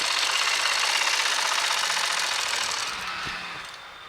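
A sewing machine runs a long basting stitch while a Patiala suit is assembled, a fast steady mechanical chatter close by that slows and fades near the end.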